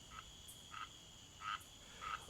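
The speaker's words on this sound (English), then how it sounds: "grumph, croaked the frog" Frogs croaking in a quiet outdoor setting, four short throaty calls spaced unevenly at moderate distance, over a steady high insect-like drone.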